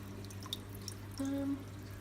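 Soft drips of water from aquarium aeration over a steady low electrical hum in a fish room, with one clearer trickling plink near the end; quiet and close.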